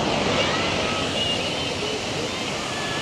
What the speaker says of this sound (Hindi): ये एक्चुअली में डैम है, डैम से पानी छोड़ा जा रहा है नीचे की तरफ से